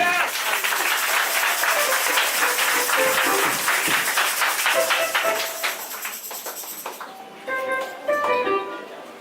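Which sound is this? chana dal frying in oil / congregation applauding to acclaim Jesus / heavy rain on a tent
congregation applauding to acclaim Jesus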